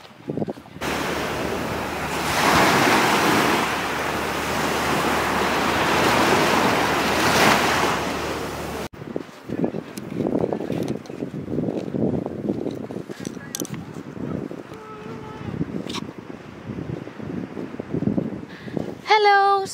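Surf breaks and rolls at Patara Beach in Turkey under strong wind buffeting the microphone, a loud, broad wash that gives way to quieter, intermittent wave sounds and gusts.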